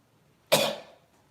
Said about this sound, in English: I've always had a slight cough.